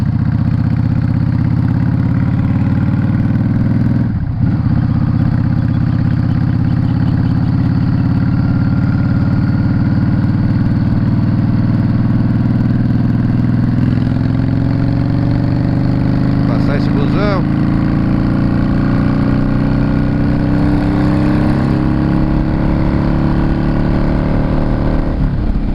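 A Yamaha Drag Star 650 motorcycle engine runs loud and close for the whole stretch, a deep steady rumble that slowly climbs in pitch as it accelerates, with a few brief revs along the way.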